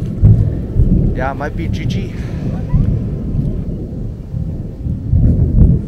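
Low thunder rumbles through a storm on a canoe trip in the Bowron Lake wilderness, deep and rolling beneath wind noise while people talk over it.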